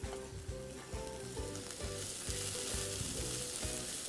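Chopped onions sizzle steadily in a hot pan with a bright, hissing fry, while a utensil scrapes and taps in a quick repeating stirring rhythm close by; no voices.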